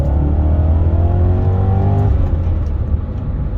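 A BMW E39 M5 pulls hard on the road, its engine note climbing steadily through the gear with a loud, close, rising growl and road roar beneath, then easing off.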